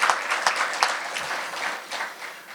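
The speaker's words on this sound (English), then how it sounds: "let's give a round of applause to all the nonprofits out in the expo and what they do" Applause from a luncheon audience at a chamber of commerce event, honoring nonprofits from the expo, with a few sharp claps standing out at the start before settling into a steady, moderately quiet patter.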